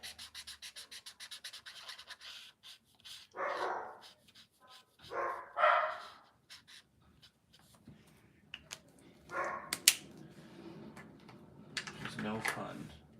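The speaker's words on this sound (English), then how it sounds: "Probably hear the dogs barking right now at the plow trucks" Several short bursts of dog barking at plow trucks break out intermittently, moderately near, separated by quieter stretches with faint tapping and scratching sounds and some voice in the room.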